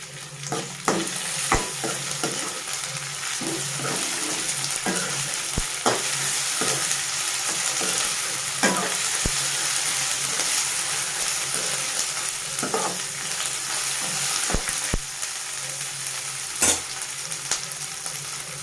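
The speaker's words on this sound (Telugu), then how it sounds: "అల్లం వెల్లుల్లి పేస్ట్ కొంచెం పచ్చి వాసన పోయినంత వరకు వేగనివ్వాలండి." Ginger garlic paste sizzles steadily in hot oil in a pan for a tomato bath, a continuous close frying hiss broken by occasional sharp taps and scrapes of a stirring spoon.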